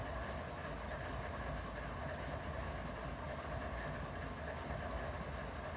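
BNSF 8004 train in the Run 8 train simulator game, a steady low rumble of rolling rail cars with faint clickety-clack, continuous and even throughout.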